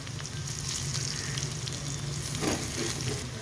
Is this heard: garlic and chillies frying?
yes